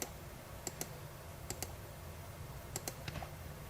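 Typing on a computer keyboard during an AutoCAD electrical drafting session: a few quiet, sharp key clicks in small pairs and clusters spread over several seconds, alone against soft room noise.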